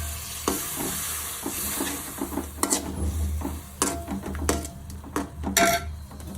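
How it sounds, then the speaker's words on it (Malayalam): Crab and prawn masala stirred with water in a pan, a spoon scraping and clinking repeatedly against the metal over a steady low sizzle, no talking. "ആദ്യം വെള്ളമൊന്നൊഴിച്ച് ആ മസാല ഒന്ന് മിക്സ് ചെയ്യാം നമുക്ക്"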